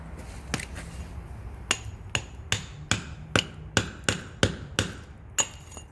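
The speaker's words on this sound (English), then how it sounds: "I'm just going to chip a little bit of it out" A sledgehammer strikes a cold chisel to chip out concrete: about a dozen sharp metallic blows ring out at a steady, unhurried rhythm, close and distinct over a quiet background.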